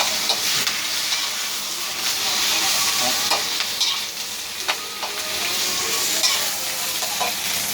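Rice vermicelli is stir-fried with soy sauce in a hot wok. A loud, constant sizzle runs throughout, close by, with a spatula occasionally scraping and stirring.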